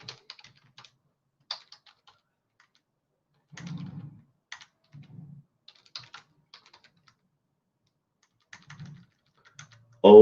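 Fingers tap out short bursts on a computer keyboard while a web page is being built, with irregular clicks and pauses, close and fairly quiet.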